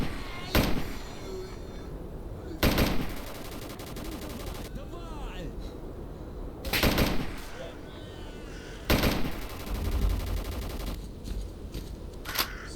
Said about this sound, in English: roughly 2 shots with the AK 103